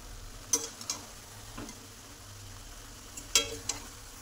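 Broiler chicken being sautéed in a pan, a quiet low sizzle with a few sharp spatula scrapes and clicks as it is stirred, close and otherwise calm.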